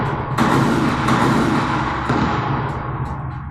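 Cannon fire sound effect, a loud booming blast with a rumbling tail that fades out over a few seconds, no talking.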